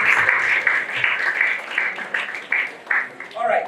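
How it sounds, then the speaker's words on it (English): An audience at a MindTalk alumni event claps together in a steady, moderately loud round of applause that swells and dips over a few seconds, with a voice briefly heard near the end. "can I get a round of applause for yourself?"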